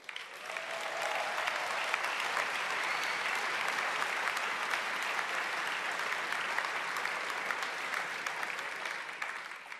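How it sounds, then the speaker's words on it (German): Sustained applause from a large crowd at the CSU's Political Ash Wednesday rally in a big hall, a steady wash of many hands clapping, even and unbroken, heard from a distance with no voices on top. "Applaus"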